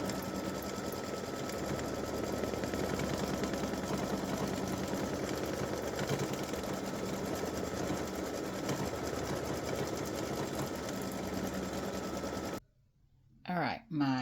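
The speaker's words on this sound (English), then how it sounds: "it's just going to go around and do the satin stitching just like it did here" An embroidery machine sewing a satin stitch, giving a fast, steady mechanical whirring and needle chatter that runs evenly and close for about twelve seconds before abruptly stopping, followed by brief handling noise.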